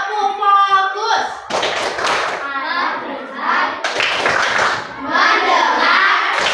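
Children in a classroom do a rhythmic clapping game, bursts of group hand claps mixed with their chanting voices, loud and close throughout.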